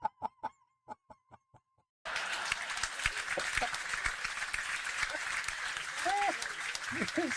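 Audience applause at a comedy show breaks out loud and dense after a brief stretch of sparse sounds, continuing steadily with faint voices mixed in.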